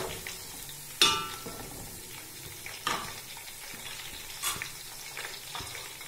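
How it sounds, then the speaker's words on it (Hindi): Whole spices frying with browned onions in a pot for chicken pulao, a soft steady sizzle broken by a few sharp scrapes and knocks of a stirring spoon, close and fairly quiet. "अब इसमें हम साबुत मसाला डाल देंगे। इसको 1 से 2 मिनट के लिए अच्छे से बीच में फ्राई करेंगे।"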